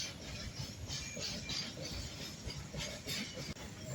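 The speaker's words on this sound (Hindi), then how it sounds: "रेलगाड़ी गुजरते समय ये पुल थरथराता है।" A train rolls across a bridge in Kashi with a continuous close rumble and rhythmic wheel clatter, steady throughout with faint metallic squeals.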